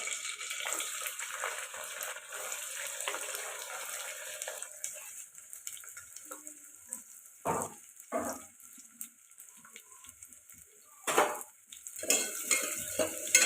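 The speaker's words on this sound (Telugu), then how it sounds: "ఇప్పుడు కలుపుకొని ఫ్రై చేసుకోవాలండి ఉల్లిపాయ బాగా ఫ్రై అవ్వాలండి" Sliced onions and green chillies frying in hot oil for a country chicken curry, a soft crackling sizzle with scattered louder scrapes and clinks of a spoon against the pan.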